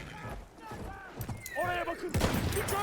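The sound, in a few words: gunfire in the video game Battlefield 1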